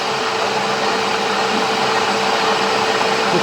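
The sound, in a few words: lathe turning welded steel material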